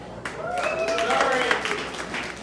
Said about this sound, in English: Thank all of you that clapped.